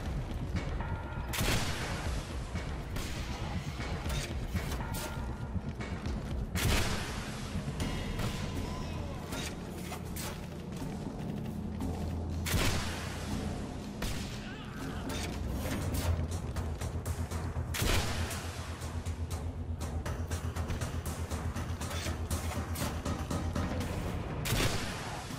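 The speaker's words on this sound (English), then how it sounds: "Obviously wants me to use this, so let's use it. Guided missiles, okay." Guided missiles fired in the first-person shooter Singularity, a series of loud booming launches and blasts spread across the stretch, each striking sharply and trailing off into rumble, with occasional talk.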